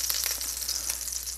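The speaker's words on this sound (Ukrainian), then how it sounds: "Смажимо до готовності з обох сторін." Schnitzel fries in a pan with a dense, steady crackling sizzle, close and fairly loud, with no voices.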